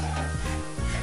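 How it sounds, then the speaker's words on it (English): Chopped garlic sizzles in olive oil in a frying pan, a steady bright hiss running close and continuous throughout with a faint stirring scrape partway through. "Nice chopped garlic into the pan."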